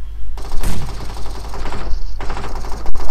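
Gunfire in the PUBG Mobile video game, a loud sustained burst of rapid automatic shots, a brief gap, then another close burst ending in a single sharp crack.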